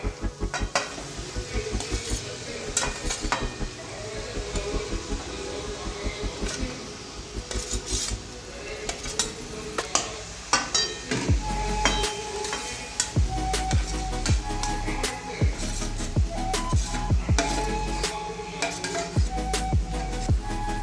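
Potatoes with turmeric and salt fry in a pan for aloo paratha filling, a continuous sizzle broken by frequent sharp clanks and scrapes of a spoon stirring against the metal, loud and close throughout.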